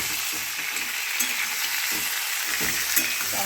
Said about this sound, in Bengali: এখানে ভালো করে নেড়ে নেবো যতক্ষণ জল না বেরোয় নাড়বো